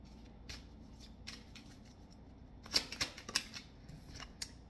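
Career tarot cards being shuffled, a few soft riffling and tapping bursts clustered near the middle against a quiet room, close and faint, with no speech.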